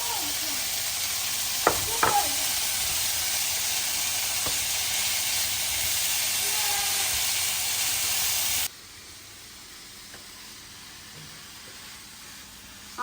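Green beans and red pepper sizzle in a frying pan with a steady broad hiss and a few utensil taps, the sizzle cutting off abruptly to a much quieter background near the end.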